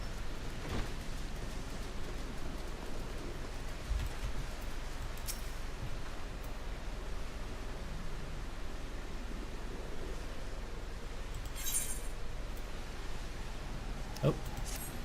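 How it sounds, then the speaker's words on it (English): Steady rain in the video game Final Fantasy XIV: Stormblood, a continuous even hiss of falling water with a few faint brief knocks on top. "Ah, it's still fucking raining."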